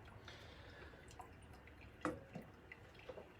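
Water from a pour-over coffee brewer drains through the grounds in soft, faint drips, with a few isolated drops standing out over a quiet background.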